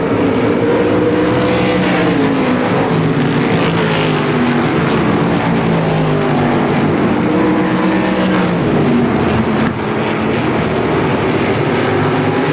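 Race cars lap the asphalt Motordrome Speedway in a 2004 show, their engines roaring loudly and continuously, rising and falling in pitch as cars pass, with no talking.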